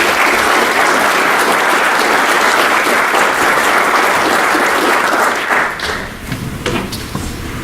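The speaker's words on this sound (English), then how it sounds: "So please join me in a round of applause for all of these panelists." Loud, dense applause from a forum audience honoring a space discussion panel, sustained broadband clapping that thins and tapers off near the end.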